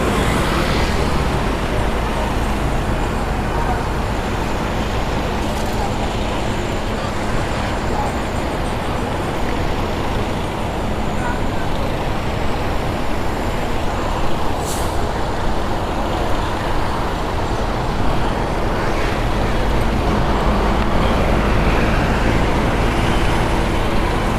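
Neo Super Jet Bus 2 Plus HD coach driving a road route across Sumatra: loud, constant engine drone and road roar with a broad hissing rush, occasional brief higher hisses, steady throughout.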